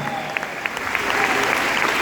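A crowd claps steadily, the applause building slightly louder toward the end, dense and continuous with no talking over it.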